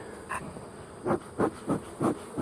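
Honey bees buzz close by at a busy hive entrance while honey frames are collected, with several loud passes coming in quick succession over a faint background hum.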